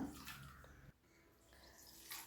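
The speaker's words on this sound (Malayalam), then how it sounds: "ഇതിലേക്ക് ഒന്നര കപ്പ് വെള്ളം ഒഴിച്ച് കൊടുക്കാം" Water poured onto grated potato in a bowl, a short splashing gush that stops abruptly partway, followed by quieter trickling and a brief renewed splash.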